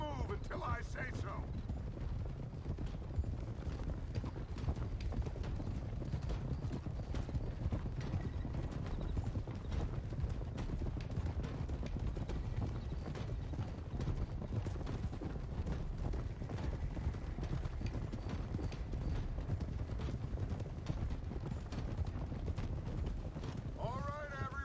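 Horses' hooves clip-clopping in Red Dead Redemption 2, several riders trotting in a steady, dense rhythm close by, with faint mechanical creaks and a brief whinny near the end.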